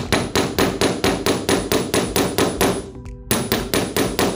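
Wire end hammered flat into a paddle for a no-solder bangle, a loud, rapid, steady run of metallic hammer blows close up, with a brief pause before the strikes resume.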